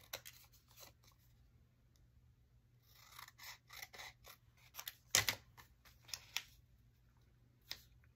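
Scissors trim a tea bag notebook, making faint, close snips and small papery cuts in irregular bursts over a quiet background.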